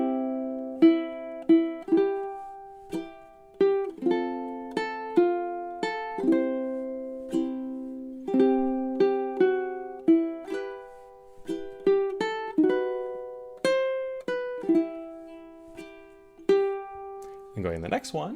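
A ukulele plays O Holy Night, measures 9 through 12, as a slow melodic line of clear plucked notes, each ringing and decaying before the next, close and alone, ending in a brief jumble of sound.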